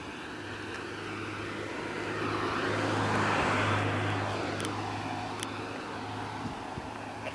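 A car drives past on a road, its broad rushing swell building to a peak midway and then fading, over a steady low hum, with no talking.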